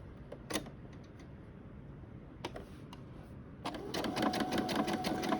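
Sewing machine zigzag stitching along the other side of an open seam, starting with a few short bursts, then settling into steady rapid mechanical ticking that grows louder and continuous, close up with no talking.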